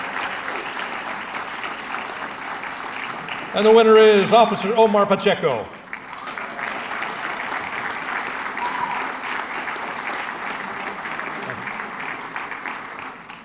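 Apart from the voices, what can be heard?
applause for award nominees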